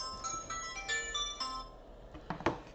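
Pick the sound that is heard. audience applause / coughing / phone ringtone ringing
phone ringtone ringing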